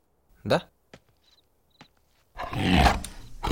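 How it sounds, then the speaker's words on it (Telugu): A tiger roar in a film scene: a loud, rough, sustained roar fills the last second of the clip. Before it come a short spoken word, a brief voice burst and a few faint clicks in near silence. "పులి."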